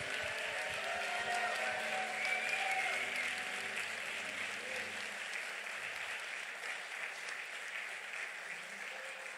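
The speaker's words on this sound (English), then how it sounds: "let's give them one round of applause" Applause from a graduation ceremony audience at an online-degree school's San Diego campus, a dense, steady wash of clapping from a large crowd that thins slightly toward the end.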